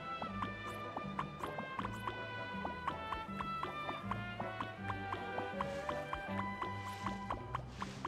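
Horse hooves gallop in a steady clip-clop rhythm through Genshin Impact, a fantasy video game, sitting under continuous game music at moderate loudness.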